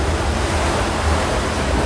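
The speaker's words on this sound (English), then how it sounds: "it comes hammering down into the next wave, such that the bridge deck, that's the bit between the two hulls, slams into the water" Catamaran at sea, its bridge deck between the two hulls slamming into ocean waves, heard as a continuous loud roar of surf and rushing water with wind buffeting, no distinct individual impacts.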